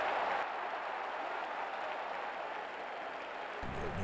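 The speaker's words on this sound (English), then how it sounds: "The crowd is electric at Bryant Denny and reaches a fever pitch" A stadium crowd at Bryant-Denny roars steadily after a 50-yard punt during a 1994 Alabama vs Georgia college football game, a dense, loud wash of cheering that holds throughout.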